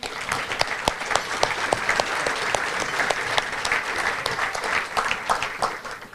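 A room full of people at a chamber of commerce meeting claps steadily, with individual sharp claps standing out from the continuous applause, fairly close and lively.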